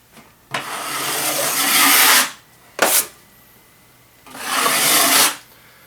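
Drywall knife scraping joint compound across a ceiling patch: three rough, hissy strokes, two long and one short, close and fairly loud with quiet gaps between.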